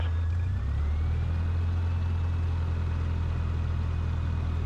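Light aircraft engine idling at low rpm, a loud, steady drone with a deep hum, heard from inside the cabin, with no break in the sound.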